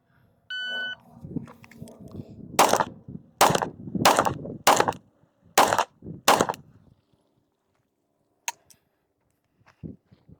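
Six pistol shots ring out on an outdoor range during a 15-yard qualification string, sharp and loud, fired in an uneven rhythm with short pauses between, followed by quiet and a couple of faint distant pops.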